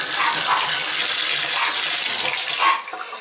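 Water runs steadily from an old, leaking tub and shower valve, a loud continuous hiss that breaks off and fades near the end.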